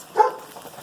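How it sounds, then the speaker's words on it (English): A dog gives a single short bark in the background, brief and moderately faint, followed by quiet room tone. "I apologize for my barking dog in the background."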